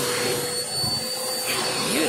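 A vacuum cleaner grooms a cat's fur, giving a steady, continuous whooshing whine with no talking.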